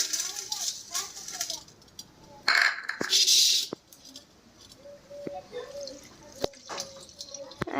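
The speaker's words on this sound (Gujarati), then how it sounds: "પૌવા ધોઈ નાખી" Flattened rice (poha) being rinsed in water while making doodh poha, heard as a couple of short, close splashing and running-water bursts in the middle, set against a quieter background with scattered small clinks.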